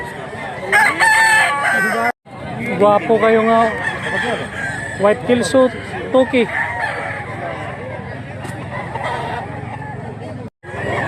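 A rooster crows amid other fowl clucking and honking at a gamecock sale, with people talking over the birds throughout.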